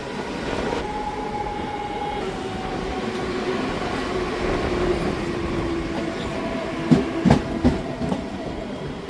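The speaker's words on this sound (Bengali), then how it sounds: "এই নৈহাটি স্টেশনে আমাদের ট্রেন ঢুকেছে এখন 3 নম্বর প্ল্যাটফর্মে" A train pulls into Naihati station on platform 3, its wheels rumbling steadily over the rails, with brief squeals and clanks toward the end as it slows.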